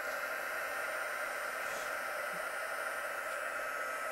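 A heat gun blows steadily at close range as it warms up to melt clear embossing powder on a stamped card, giving a constant airy hiss with no pauses or speech.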